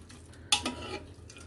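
Chana dal pulao being stirred with lemon juice inside a pressure cooker, a single clattering scrape of spoon against metal pot midway, with quiet handling noise around it.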